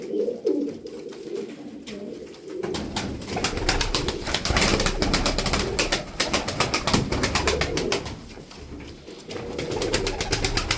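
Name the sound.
tumbler pigeons cooing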